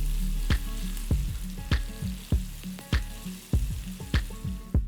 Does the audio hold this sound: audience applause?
no